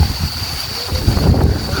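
Strong windstorm gusting in Lekhnath, Nepal, a steady roar of wind buffeting the microphone with rising surges toward the end, loud and close with no talk.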